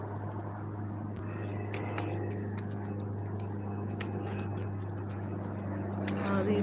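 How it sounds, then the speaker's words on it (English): Private planes fly overhead, producing a steady low engine drone with a constant hum that swells slightly near the end. Scattered clicks and light handling noises sit on top, and a voice talks over it. "All these private planes driving over."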